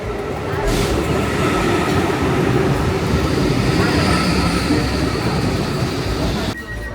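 Inside the express airport train from Oslo, a continuous loud rumble of wheels on rails and the carriage in motion, steady and close, easing slightly near the end.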